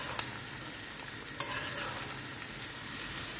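Hot oil bubbles hard in a pan while eggplant and vegetables fry, giving a steady, fairly quiet sizzling hiss with a couple of sharp crackles near the start.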